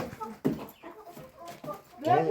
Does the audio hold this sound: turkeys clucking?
yes